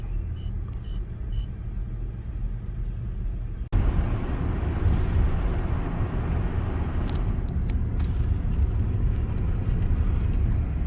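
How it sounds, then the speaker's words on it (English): Steady, loud low rumble of road traffic passing close by, with a sharp jump in level partway through and no voices. "Lots of traffic this morning."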